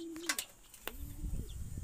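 A pet pigeon kept alongside Muscovy ducks gives two soft, close coos with low rumbling underneath, followed by faint shuffling noises.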